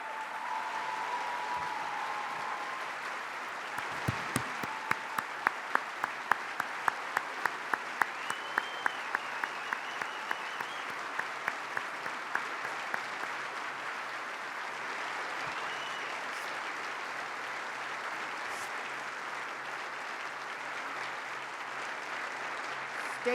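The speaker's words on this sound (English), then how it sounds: "let's give these heroes a round of applause." Audience applause at a governor's inaugural address: a sustained, even wash of clapping from a large indoor crowd lasting the whole stretch, with a few sharper claps in the early part.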